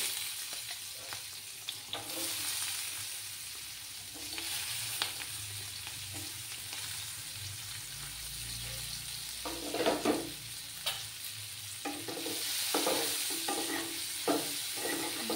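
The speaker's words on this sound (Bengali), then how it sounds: "আর এখানে দেখো আমি পেঁয়াজ কেটে রেখেছিলাম, দুটো পেঁয়াজ কুচিগুলো দিয়ে দিচ্ছি।" Two chopped onions added to a pan with whole cumin, frying over a low flame for egg masala curry, give a steady close sizzle with occasional stirring scrapes and clinks, no voices.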